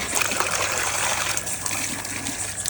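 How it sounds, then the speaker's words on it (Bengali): A basin fills with water pumped by a motor, a steady, close gush and splash of running water lasting throughout, with no one speaking. "এখন এই গামলাটাকে ভরছি জল দিয়ে"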